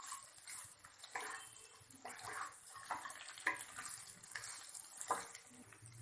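Lemon chicken fry being stirred in a pan after soy sauce is added, heard as soft, irregular scraping and wet shuffling strokes at a moderate distance over a steady sizzle.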